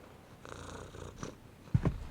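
In a horror video game, a cat purrs softly in a short low rumbling stretch, ending in a couple of louder snuffling bursts.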